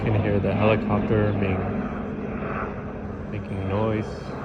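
A steady engine drone of a helicopter flying overhead rumbles beneath a person talking throughout.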